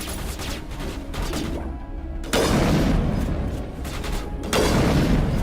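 Heavy gunfire and booming weapon blasts from a space RPG video game, loud and sustained, with two abrupt intensifying bursts of dense shooting and no talk over it.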